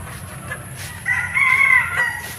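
A rooster crows once, loud and close, among free-range chickens on a range flock of about thirteen birds with five males, over a steady low farmyard background.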